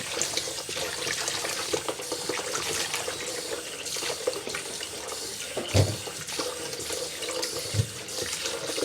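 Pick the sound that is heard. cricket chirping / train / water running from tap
water running from tap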